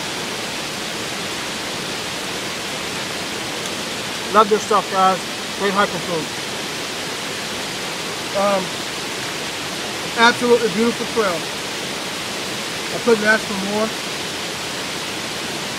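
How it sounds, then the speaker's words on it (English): Waterfall at Glendale Shoals on a trail: a steady, broad rushing roar of falling water fills the background throughout, loud and constant, while someone talks intermittently over it. "that will put us out here, right smack in front of the waterfall"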